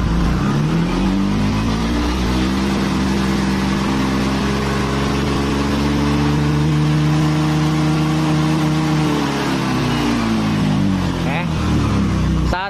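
A Honda Vario 125 scooter engine revs up to high RPM and holds there, a loud steady drone with rising and falling harmonics, then eases back down toward idle near the end.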